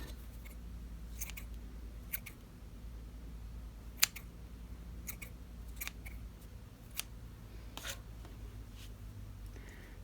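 Scissors trim the yarn loops on a crochet chevron baby blanket, giving a scattered series of short, quiet snips at an uneven pace over a low, steady room hum.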